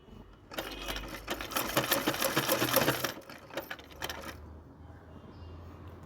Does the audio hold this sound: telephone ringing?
no